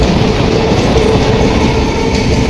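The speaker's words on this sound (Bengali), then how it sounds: "এই ট্রেন চলে যাচ্ছে, লাস্ট ট্রেন এটা" A train rumbles past close by at Barasat station, a steady dense roar with rhythmic wheel clatter throughout, no voices.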